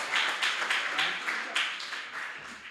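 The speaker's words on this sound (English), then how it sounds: "let's actually give a round of applause" Conference audience applauding, several bright bursts of clapping swelling and fading in a loose rhythm, fairly distant in a large room with no talking over it.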